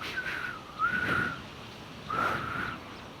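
Soft whistling: a few short rising and falling whistled notes in two bursts, fairly faint, with no other sound around them.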